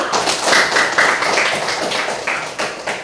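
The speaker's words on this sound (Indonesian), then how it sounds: "berikan aplaus untuk Lea" Applause for a student in a seventh-grade social studies class, a few seconds of steady, fairly loud clapping and tapping from several people in a room, with no talking.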